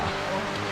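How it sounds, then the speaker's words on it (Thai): Heavy rain pours steadily during a 65 km ultra trail race in Chiang Mai, a dense broadband hiss of close, loud downpour with a low rumble underneath and no voices. "ตกลงมาแบบแรงเลยนะครับ"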